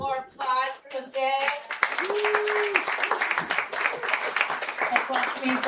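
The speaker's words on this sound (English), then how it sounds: "Get a little bit more applause for Jose" Audience applause at a Los Angeles book launch for a reader named Jose, steady clapping filling the room after a brief opening of voices, with a sliding tone and some talk mixed in over the claps.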